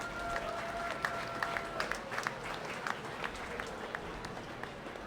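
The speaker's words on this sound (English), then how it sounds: "Let's give our judges a round of applause" Audience at a 2021 showmanship contest applauds the judges, a steady wash of many hands clapping with scattered louder claps across the whole stretch, moderately distant and without talk.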